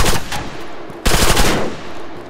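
Bursts of automatic gunfire in the Arma 3 DayZ mod, two rapid volleys separated by a brief pause, loud and close.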